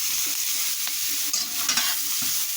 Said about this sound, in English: I'm going to fry some onions because I think you always need a bit of onion